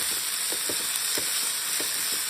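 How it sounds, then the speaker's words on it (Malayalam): Ingredients frying in oil for a chicken fry dum biryani, a loud, steady close-up sizzle with soft stirring knocks at irregular intervals and no talk. "ഇതെല്ലാം ഈ എണ്ണയിലിട്ടിട്ട് മൂപ്പിച്ചെടുക്കാം."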